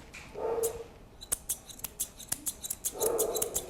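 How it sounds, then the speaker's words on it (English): Crisp scissor snips close by as a Bichon Frise's chest coat is groomed, about a dozen in an uneven rhythm, framed by two short low tonal sounds. "I'm going to start off by scissoring her up her chest"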